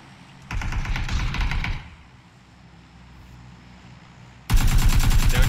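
Two bursts of rapid, loud gunfire in the video game PUBG, each lasting about a second, separated by a quieter stretch of background noise.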